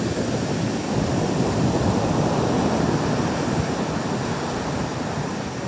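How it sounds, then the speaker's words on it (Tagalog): Big ocean waves on a rough day, a loud, dense and unbroken roar of surf with wind rumble, steady and close throughout. "Ngayon ay talagang malalaki po ang alon."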